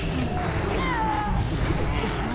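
A cat creature in World of Warcraft gives out snarling, meow-like cries as it is attacked and killed. The cries sit over dense, loud game noise and music.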